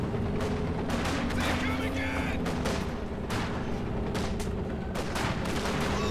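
Sturmgewehr assault rifle fire in the WWII strategy game Company of Heroes 2, dense overlapping bursts of gunfire with explosions and battle noise, loud and continuous throughout.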